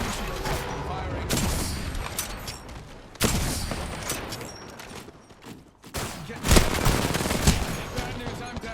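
Bursts of rapid automatic gunfire in a shooter video game, loud crackling volleys broken by short pauses, with game voice lines mixed in.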